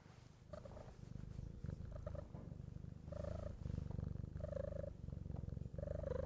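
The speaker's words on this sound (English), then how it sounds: "Let's see if we can get a little purring action on the microphone." A cat purrs right up against a microphone, a soft rhythmic rumble of steady in-and-out breaths repeating over several seconds with no talking.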